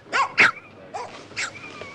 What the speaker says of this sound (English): You mean your aunt barks like a dog?